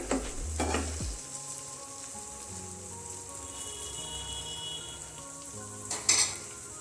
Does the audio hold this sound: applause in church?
no